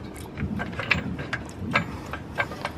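A ratchet wrench cranking on a jammed strut bolt while coilovers are fitted to an Acura Integra, a close series of irregular metallic clicks over low background noise.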